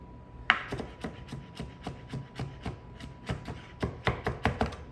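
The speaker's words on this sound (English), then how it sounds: "when you think about cutting, this is what cutting looks like" A knife chops vegetables on a cutting board for fried rice, with about twenty quick, crisp taps in an uneven rhythm, close and clear, picking up speed toward the end.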